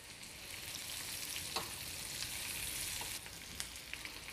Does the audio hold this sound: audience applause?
no